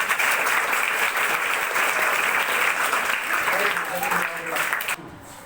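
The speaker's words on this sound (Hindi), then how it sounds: "एक बार जतिन के लिए जोरदार तालियां।" An audience of students at a personality and confidence seminar applauds loudly for Jatin, with dense, sustained clapping that drops off sharply near the end.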